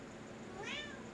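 A house cat gives one short, faint meow over a steady background hum, brief and quiet.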